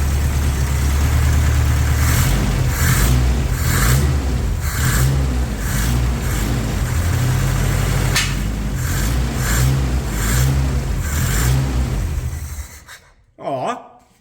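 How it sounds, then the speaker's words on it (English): A 1984 Toyota pickup truck engine running close by, a loud steady idle with uneven surges in revs, then it cuts out abruptly near the end leaving a brief clunk. "the motor's not being terribly noisy right now"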